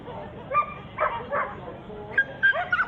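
A Shih Tzu and Jack Russell Terrier cross dog at an agility event gives several short yips and whimpering barks, moderately close, with a low background of crowd noise.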